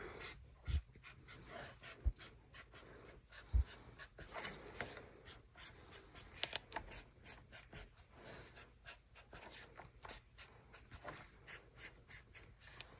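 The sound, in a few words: pen drawing stars on paper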